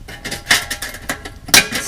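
Cut metal parts of a DIY hot tent stove clank and clink together during a test fit, several sharp close metallic knocks in quick succession, two of them louder.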